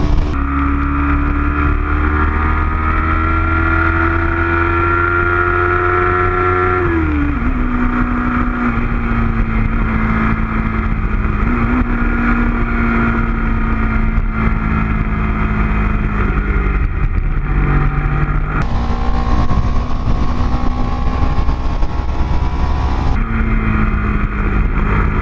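A 2014 Triumph Street Triple R engine drones steadily while riding, its pitch shifting with throttle and gear changes, with a loud, continuous hum and wind rush throughout.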